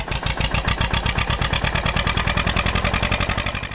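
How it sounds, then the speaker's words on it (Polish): A Zetor 25A tractor engine, started with a hand crank, runs with a loud, even chugging beat of regular firing pulses from start to finish. "odpalenie tego ciągnika za pomocą korbą"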